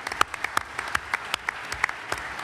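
Audience applauding for economist Jean Tirole at a Lyon conference, steady clapping for a couple of seconds with sharper individual claps standing out, moderately loud and without voices.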